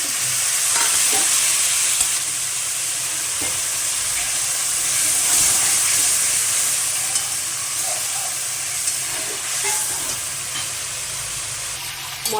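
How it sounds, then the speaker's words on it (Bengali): Spice paste of turmeric, cumin and split green chilli sizzles steadily in hot oil for a hilsa fish curry, a loud continuous close fry with faint stirring scrapes. "আমি তেলের মধ্যে ঢেলে দিচ্ছি"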